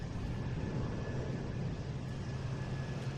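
JetBlue Airbus A220 jet at Boston Logan, a steady low engine roar that holds even and continuous throughout, with no voices over it.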